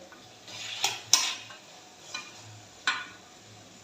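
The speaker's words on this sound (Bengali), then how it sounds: "শুটকিগুলো আমি এখন ভেজে নিব" Dried fish (shutki) in a pan with garlic and ginger paste, stirred with a utensil; a few sharp scraping clinks and soft frying hiss, moderately close, no talk.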